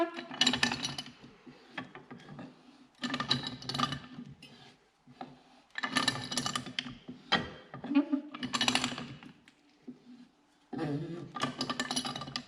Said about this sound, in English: Should just be able to put a punch through the hole and turn them by hand